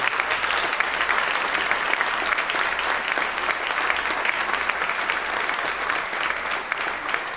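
A church congregation applauds, a dense, steady wash of clapping from many hands that holds at even loudness for several seconds, with no voices standing out.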